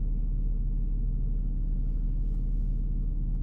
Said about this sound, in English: Warming up the car, almost ready to go.